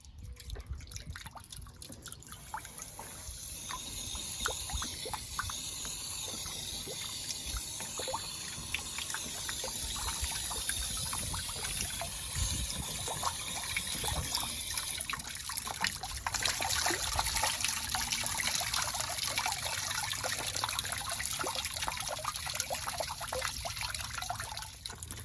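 Water drains and trickles steadily from a Suburban RV water heater being flushed of sediment and crud, a continuous close splattering flow with busy dripping that holds at an even level throughout.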